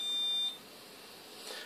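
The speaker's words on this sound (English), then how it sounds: "It beeps to say it's got a sample of blood" A single high electronic beep from a home warfarin INR blood test meter registering a blood sample, clear and close, followed by a quiet room hum.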